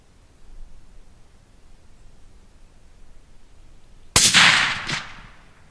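A single suppressed shot from a Tikka T3 rifle in .243 Win cracks sharply and loudly after several seconds of quiet outdoor hiss, followed by a short rolling echo that fades.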